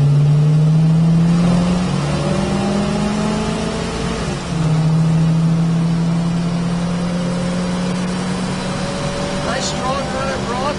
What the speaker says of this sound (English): Nice strong running Bronco.